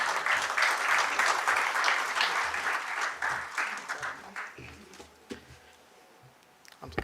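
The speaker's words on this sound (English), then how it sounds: "And now, again with a huger round of applause" A seminar audience at Fariyas Hotel, Lonavala, applauds loudly, a dense patter of clapping that gradually thins out and fades toward the end.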